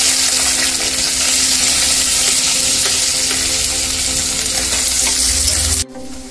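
Chopped onions frying in hot oil for village-style Maharashtrian black chicken, a loud, steady sizzle that holds without a break and then cuts off abruptly near the end.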